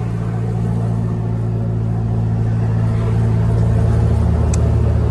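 A car engine pulls in fifth gear under almost 30 units of turbo boost, making a continuous, loud, low droning hum inside the cabin that stays even throughout.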